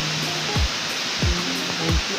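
Aruyan Falls, a waterfall at the Penal Farm in Sablayan, Occidental Mindoro, gives off a steady broadband rush of falling water, with a few brief low swooping sounds rising above it at regular intervals.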